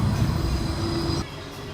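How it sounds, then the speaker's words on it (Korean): A tram rumbles past close by on the Gold Coast, Australia, with a low steady drone and a faint tonal hum, then the sound drops off abruptly near the end. "어제 타고 온 트램이 지나가고 있네요."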